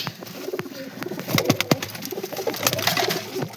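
Pigeons cooing close by in soft, repeated low calls, with some faint fluttering and rustling around them.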